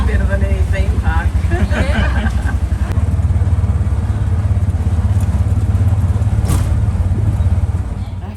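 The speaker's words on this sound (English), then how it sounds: "That good fun tuk-tuk ride" A tuk-tuk carries passengers through narrow streets in the Guatemalan highlands, its small engine buzzing loud and steady throughout, with people talking over the ride.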